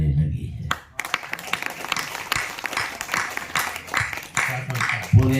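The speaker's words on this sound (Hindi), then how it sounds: "पूरे सदन की तालियां चाहूंगे साहब।" Audience applause at a Hindi comedy poetry recital (hasya kavi sammelan), a dense sustained wash of clapping from a large crowd after a brief quiet opening, with a voice breaking in near the end.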